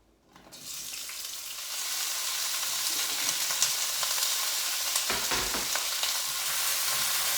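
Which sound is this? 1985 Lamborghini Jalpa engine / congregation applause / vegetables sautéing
vegetables sautéing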